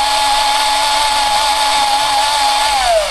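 A battery drill powered from a mains transformer whines steadily and loudly at close range, with its tone dipping as the speed drops near the end.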